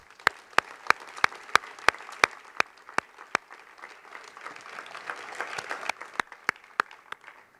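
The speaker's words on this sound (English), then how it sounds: "Let's give them a round of applause." An audience at a Boston Medical Center addiction center announcement applauds, with a string of loud, sharp individual claps standing out over a sustained wash of crowd clapping that swells slightly toward the end.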